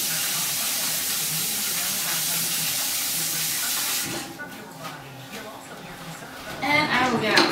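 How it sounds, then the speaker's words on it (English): Tap water runs in a loud, steady hiss for hand washing, then cuts off abruptly, leaving quieter splashes and handling sounds close by. "Wash my hands real quick."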